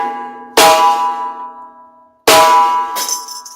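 An unmuffled snare drum struck twice with long ringing, hollow overtones that fade slowly between hits, loud and close with a brief extra clatter after the second stroke.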